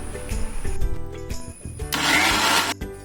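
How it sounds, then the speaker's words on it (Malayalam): A mixer grinder whirs as it blends a Munch chocolate milkshake. Short motor bursts build into a loud, steady grinding roar near the end, then cut off abruptly, with no talking. "എല്ലാം കൂടി ചേർത്ത് മിക്സിയിലിട്ടൊന്ന് കറക്കി നോക്കിയപ്പോൾ ഐറ്റം റെഡി"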